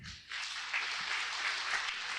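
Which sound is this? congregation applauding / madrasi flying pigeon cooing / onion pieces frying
congregation applauding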